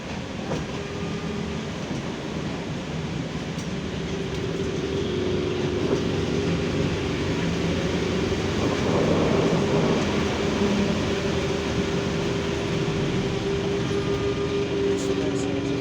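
Inside a moving BKM-32102 trolleybus in Minsk, a steady loud hum and rumble of the ride fills the cabin, swelling slightly midway with a continuous electric drone.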